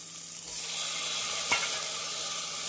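Onions and tomatoes sauté in a pan for sambar rice, a soft continuous sizzle with a brief stir near the middle, close and fairly quiet, no talking.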